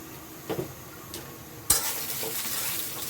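Cumin seeds tempering in a pan for a vegetable dish: a quiet hiss with a couple of soft stirring scrapes, then a sudden louder burst of sizzling that stays strong and close to the end.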